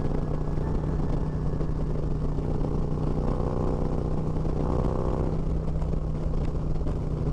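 A motorcycle engine runs steadily nearby with a deep, constant rumble and a low droning hum, swelling slightly partway through before settling back.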